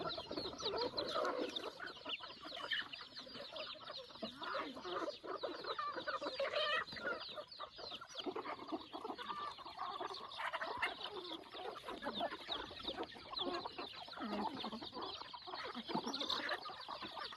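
Chickens and ducks cluck and chatter at a farm, a busy, continuous flock of soft calls from several birds, fairly close and with no talk over them.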